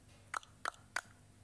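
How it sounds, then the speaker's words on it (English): Three crisp tongue clucks, evenly spaced and close, sound alone in a quiet room as part of a children's music demonstration. "Cluck with your tongue."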